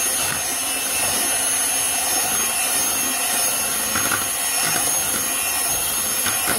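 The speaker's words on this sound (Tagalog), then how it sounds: "Ginagamit ko pa ng mixer guys. Ito para maturog yung butter." An electric mixer creams butter for chocolate chip cookies, giving a continuous, fairly loud whirring drone with a broad hiss that holds steady throughout.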